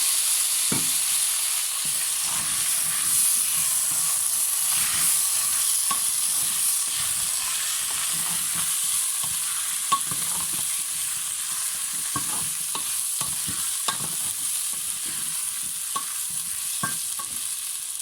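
Three cut potatoes fry in a Jaffna-style Sri Lankan prawn curry, giving a constant bright sizzle while a spoon stirs and scrapes the pan in repeated, irregular strokes.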